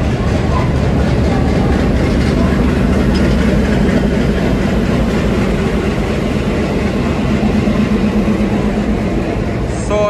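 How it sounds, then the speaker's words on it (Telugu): The Falaknuma Express pulls into a station on the Secunderabad–Howrah route with a loud, continuous heavy rumble and engine drone that lasts throughout, while voices murmur in the background. "మన ట్రైన్ వచ్చేస్తుంది, అందరూ సిద్ధమవుతున్నారు"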